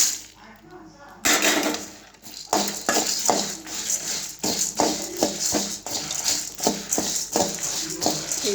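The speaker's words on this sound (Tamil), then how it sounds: "இப்போ அடுத்தது மல்லியை போட போகிறோங்க." Coriander seeds tipped into a dry pan alongside urad dal, giving a quick rattling pour followed by a steady patter of small hard seeds scattering and clinking against the metal, close by.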